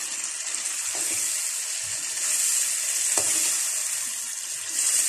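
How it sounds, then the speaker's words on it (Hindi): Spices sizzle in a frying pan while being stirred and mixed, a loud steady hiss with a couple of soft scraping knocks from the spoon, close up and without talk. "अभी हम इसको थोड़ा मिक्स करेंगे"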